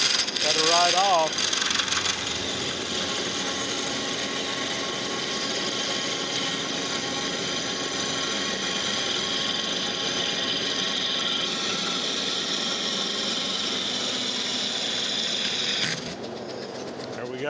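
A metal planer cuts a steel gib in a workshop, giving a steady, loud scraping and grinding drone that continues evenly for about fifteen seconds before dropping off abruptly near the end.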